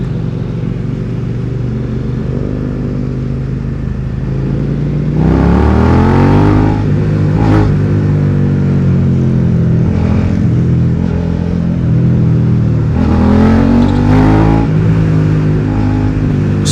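Suzuki SV650 motorcycle with its catalytic converter reinstalled, idling loudly up close and then revving in two strong bursts that rise and fall back to a steady idle, no talking.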